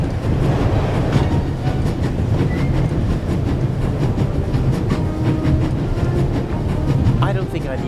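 Train rolling along rails in the video game The Raven aboard the Orient Express, a steady low rumble with rhythmic clickety-clack running throughout.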